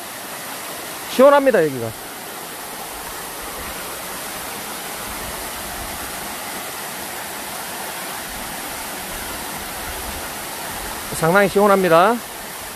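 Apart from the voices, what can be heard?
waterfall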